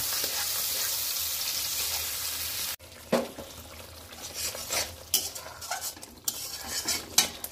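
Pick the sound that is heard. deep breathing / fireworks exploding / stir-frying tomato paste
stir-frying tomato paste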